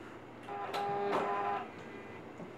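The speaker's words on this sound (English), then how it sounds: "Now we're going to sew on our other piece of Velcro to our other dot." A sewing machine stitches a piece of Velcro onto fabric in two short close mechanical whirring bursts, followed by quiet.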